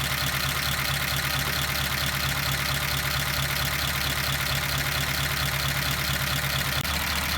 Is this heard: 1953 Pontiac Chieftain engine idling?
yes